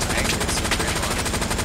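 Rapid automatic gunfire in the video game Hell Let Loose rattles in a dense, continuous burst, loud and unbroken, with a voice faintly audible underneath.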